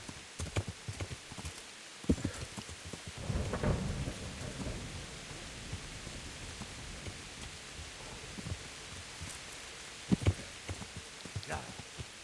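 A thunderstorm in Kingdom Come: Deliverance, with rain hissing under a swelling roll of thunder and scattered hoof clops and sharp knocks breaking through.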